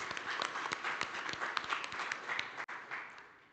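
An audience at an oil and gas conference in Namibia claps, dense steady applause filling the room for a few seconds, with a brief dip near the end before it fades.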